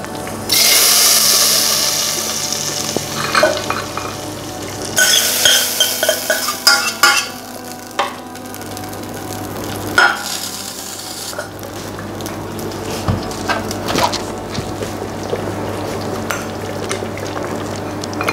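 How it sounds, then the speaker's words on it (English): Spoon stirring tempered spices into rice and mung dal in a pot, with scraping, clinking utensil sounds and a soft sizzle running throughout, close and alone. "Give it a stir."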